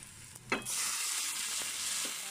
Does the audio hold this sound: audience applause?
no